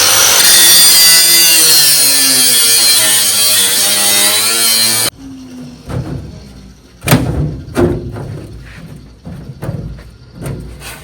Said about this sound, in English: We have a couple more tack welds down in here that I need to grind out before I can take this divider all the way out.